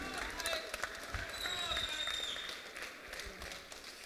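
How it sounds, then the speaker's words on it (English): Crowd applause and cheering at a UCMMA mixed martial arts event as the runner-up is honoured, steady clapping mixed with arena noise and a voice over the top. "how about a round of applause for your runner-up, Pete Nemesis Nemeth"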